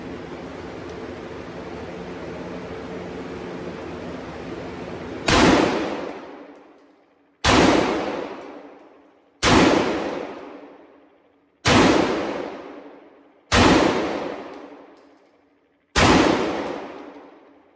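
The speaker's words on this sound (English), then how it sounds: "I got 6 rounds of the buckshot loaded up, so we're gonna shoot right there in the center and hopefully demolish it." Six loud blasts from a Benelli M4 shotgun firing 00 buckshot at a target outdoors, spaced about two seconds apart, each with a sharp crack and a long fading echo after a stretch of steady background noise.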